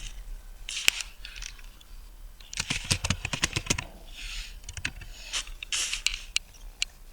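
Keys on a computer keyboard clatter as a file name is typed into a save dialog: a few scattered taps, then a quick dense run of keystrokes, a pause, and another cluster of clicks, close and moderately loud with no talking.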